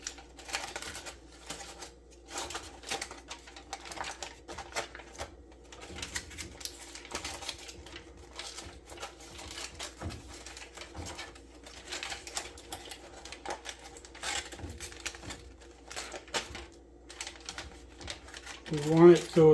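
Aluminium foil is loosened and crinkled inside a pan for homemade Spam, producing a long run of close, irregular crackling and rustling bursts with a louder scrunch at the end.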